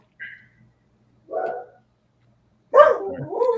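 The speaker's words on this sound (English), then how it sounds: "Bark, bark, bark. I have no idea who that was." A dog barks three times somewhere off to the side, short separated barks growing louder, the last one fuller and trailing into a longer yelping sound.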